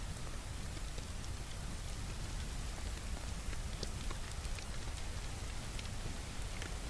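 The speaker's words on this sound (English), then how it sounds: "And it's now raining." Rain falling in the medieval survival game Bellwright, a dense, steady hiss of rainfall with scattered sharper drop ticks, continuous and even throughout with no talking.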